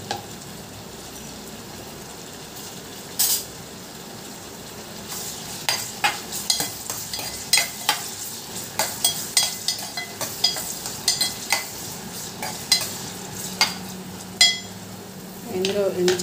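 Onions frying in a pan for a quick brinjal curry with dried fish, a soft steady sizzle under repeated sharp clinks and scrapes of a spoon stirring against the metal, growing busier toward the end.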